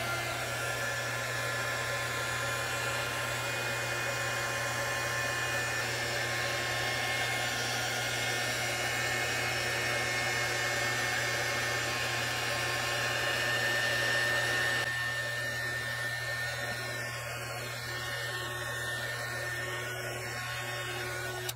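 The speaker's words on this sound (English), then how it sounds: "I'm using my embossing heat gun." An embossing heat gun blows hot air onto embossing powder in a steady, unbroken whoosh with a low motor hum, close and constant for the whole stretch.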